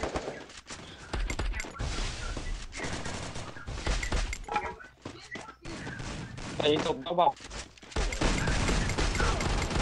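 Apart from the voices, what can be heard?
gunfire in a shooter video game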